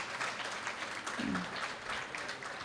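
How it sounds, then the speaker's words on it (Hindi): Audience clapping at a Vrindavan devotional katha gathering, a steady, moderately faint patter of many hands continuing throughout, with a brief low murmur of voice in the middle. "मैं तो कहती हूँ इन लोगों के लिए भी ताली बजाओ आप लोग"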